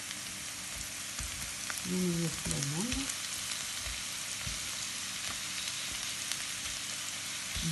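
Minced meat sizzling and frying in a pan, a soft continuous crackle with faint stirring, and a short spoken voice partway through.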